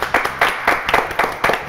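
A studio audience applauds a retro-modern singer with a handful of quick, loud, close claps in an uneven rhythm, a few hands standing out over a thin wash of clapping.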